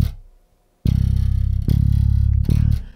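A five-string bass guitar plays a groove, with three deep, punchy plucked notes after a short gap, each sustaining heavily before the next, close and loud with no voices.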